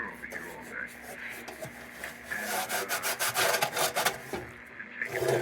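A bench grinder works metal on a lantern part, giving a steady abrasive rasp that swells into dense, loud pulses in the middle and later stretches, with a faint hum beneath and no speech.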